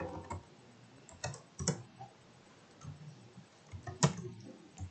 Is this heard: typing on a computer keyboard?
yes